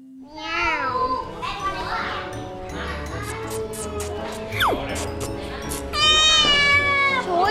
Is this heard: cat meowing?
yes